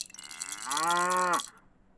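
A single electronic cow moo from a baby's toy combining keys, a rattle and an animal sound device, slightly tinny and toy-like, rising and then cutting off abruptly.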